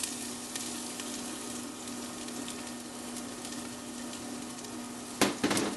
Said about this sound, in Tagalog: kung mainit na yung cooking oil, igigisa na natin dito yung bawang, sibuyas at luya